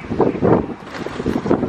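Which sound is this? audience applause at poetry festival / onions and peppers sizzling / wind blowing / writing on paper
wind blowing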